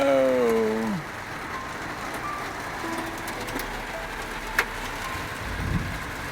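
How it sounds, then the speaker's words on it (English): Hail pattering steadily outdoors, a continuous rough hiss of stones striking surfaces, with a brief electronic tone at the start and a single sharp knock midway. "It's hailing."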